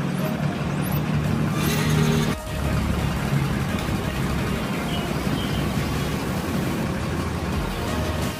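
A large bus engine drones steadily as the bus turns around, with continuous rumbling road noise, a brief dip in sound midway, and no clear talk.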